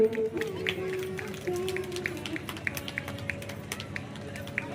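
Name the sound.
audience clapping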